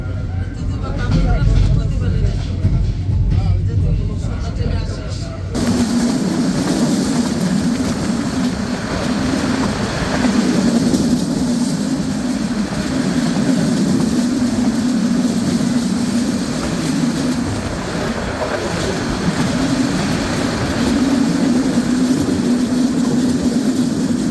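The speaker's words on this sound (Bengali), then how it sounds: "পাশে যে ট্রেনটি দেখা যাচ্ছে তার ট্রেন নম্বর সাতশত" The intercity Banalata Express, train number 792, rolls past alongside a moving train near Ishwardi Bypass station in Bangladesh. It makes a loud, steady rail rumble with a low droning hum that starts abruptly and continues throughout.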